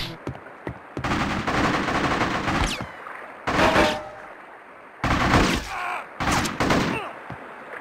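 Fully automatic assault weapon fire in the Gamecube game Bad Boys: Miami Takedown: several loud, rapid bursts of gunfire separated by short pauses, with a voice speaking briefly between shots.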